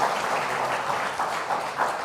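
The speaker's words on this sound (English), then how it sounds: "they all deserve a big round of applause" Steady audience applause at a book launch event, many hands clapping in a dense, continuous wash that holds level for the whole stretch with no voices.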